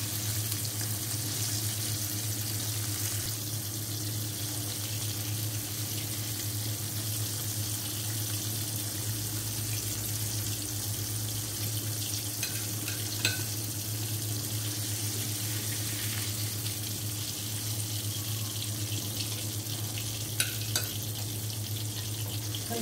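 Chicken pieces fry in a pan for a restaurant-style steam roast, giving a steady, close sizzle with a hum beneath it and occasional faint clinks. No one speaks.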